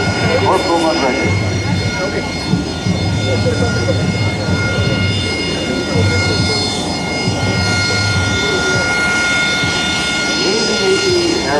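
A United States Marine Corps AV-8B Harrier II light attack jet flies a demonstration at the 2008 Rhode Island Air National Guard open house, its engine a constant loud roar with a whining tone, under an announcer's voice.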